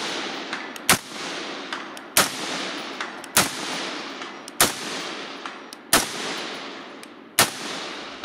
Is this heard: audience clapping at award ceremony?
no